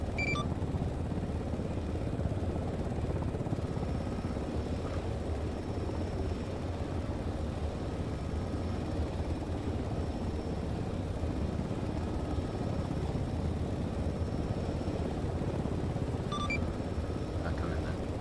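A helicopter in a military simulation video game runs with a steady, low rotor and engine drone, continuous and unchanging, while people talk over radio in the background.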